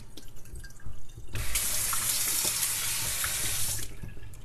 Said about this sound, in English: I'm going to do one more solid rinse on these, because I was still getting quite a bit of dirt coming out of them.